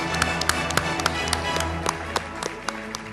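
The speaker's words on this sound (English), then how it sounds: "Can we have a big round of applause for her?" Scattered hand claps from an audience at an award felicitation ceremony for a value education olympiad, sounding as a sparse, uneven patter of sharp claps over a steady low room hum.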